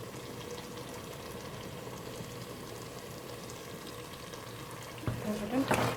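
Tamil thothal, a thick coconut-milk sweet, simmers in a pan and is stirred, giving a soft, steady bubbling and scraping that turns louder and busier near the end.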